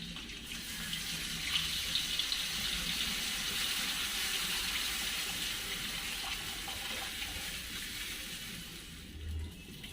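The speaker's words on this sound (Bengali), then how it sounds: "তো এবারে তেঁতুল জলটা দিয়ে দেবো।" Tamarind water poured into a small spotted-crab sour curry, a steady continuous splashing trickle running for about ten seconds at moderate level, no voices.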